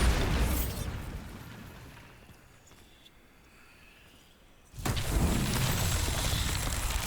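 Bombarda spell explosion in the Hogwarts Legacy video game, a loud noisy blast that fades into a quieter lull before a second heavy burst of rumbling noise, close and with no speech.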